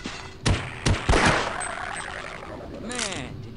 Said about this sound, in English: Man, did you see that shot?